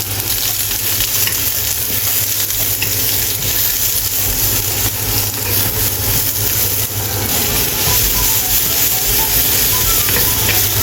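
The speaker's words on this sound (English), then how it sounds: "Stir-fry onion until fragrant." Onion stir-frying in a hot wok: loud, continuous sizzling and crackling oil with scraping of stirring, steady throughout, close up, no talking.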